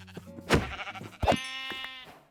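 Two drawn-out sheep bleats sound in a modded video game, the first short and the second longer and wavering, clear and close against a quiet background with a faint low hum.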